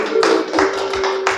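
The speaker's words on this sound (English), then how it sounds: "a resounding hand of applause" Applause from a gathered audience at a traditional community meeting honoring a traditional ruler, heard as a burst of close, dense hand claps that swells in uneven waves over a steady tonal hum.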